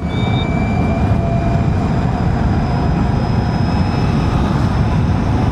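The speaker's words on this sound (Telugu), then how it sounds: "మోటార్ సౌండ్ అయితే చాలా బాగుంది." Steady, dense motor drone with a high whine running throughout from an Ather Rizta electric scooter while riding, loud and close, no voices.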